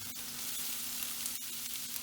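Chopped onion hitting hot oil in a pan over a gas flame gives a steady, close, full sizzle that runs unbroken throughout, with a faint low hum beneath and no one speaking.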